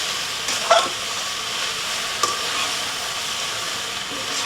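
Garlic chicken stir-frying in a high-walled Man Pan on a Volcano Grill, a steady bright hiss and sizzle throughout with a couple of brief clinks of a utensil, close and even.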